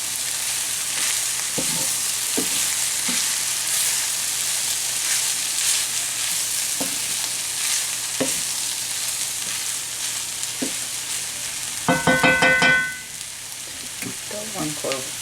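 Ground beef browns in a hot pan with a steady loud sizzle and hiss, broken by occasional scrapes and clinks of a stirring utensil and a louder clatter near the end.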